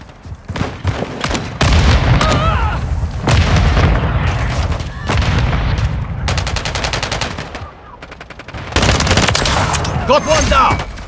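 In Call of Duty Modern Warfare 3 multiplayer on the Rust map, loud automatic gunfire and booming grenade blasts come in repeated bursts, while game voice callouts are heard between them.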